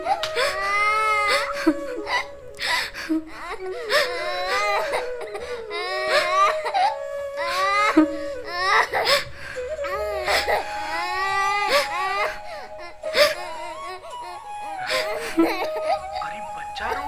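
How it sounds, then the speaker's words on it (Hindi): An infant cries loudly and close by in a Hindi film scene, repeated wailing sobs and whimpers rising and breaking in uneven bursts throughout. "अरे बच्चा रो रहा है,"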